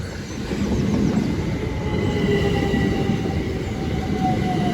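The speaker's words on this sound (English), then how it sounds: "This train has 8 coaches." An eight-coach Class 375 train rolls past close by at Headcorn station, England, with a steady, heavy rumble and faint metallic squealing tones, continuing throughout without pause.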